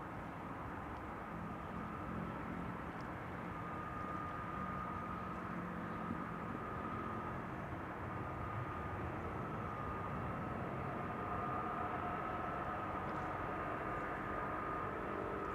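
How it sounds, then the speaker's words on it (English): A Boeing Dreamliner arrives at Amsterdam Schiphol Airport, its engines a steady, even roar held at the same level throughout, with a faint tonal hum running above the broad rumble. "Dreamliner arrival, apparently."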